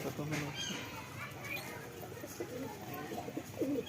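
Teddy and Andra breed pigeons in a home loft give low, soft coos in short repeated phrases, close by, mixed with a murmur of voices and background rustle.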